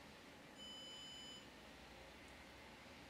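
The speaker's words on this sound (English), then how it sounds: "you'll see a very low but audible beep" A lightfusion treatment device gives a single faint, steady electronic beep lasting about a second over a quiet background hiss.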